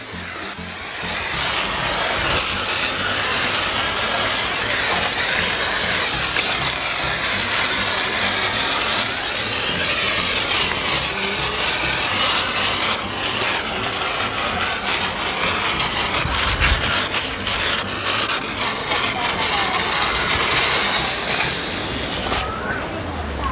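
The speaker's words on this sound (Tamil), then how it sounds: "ஃபோம் கன்னை செம்மையாக அடிக்குது பாருங்கள்." A high pressure washer foam gun sprays foam over a bike, a continuous loud hissing spray with sputtering bursts running throughout, while someone talks over it.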